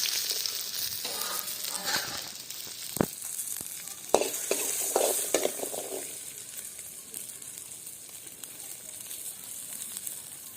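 Garlic goes into a village-style fish curry base cooking over a wood fire, a gentle sizzle with sharp knocks and stirring clatters in the first six seconds, then a quieter, fading hiss.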